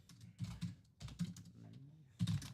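Fast, uneven typing on a computer keyboard comes in clustered bursts of clicks with short pauses between them, close and fairly quiet, with no speech.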